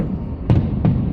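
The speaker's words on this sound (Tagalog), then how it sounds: "fireworks in Makati" Fireworks bursting over Makati on New Year's, two dull distant booms about a third of a second apart, each with a short crackling tail, over a low steady background rumble.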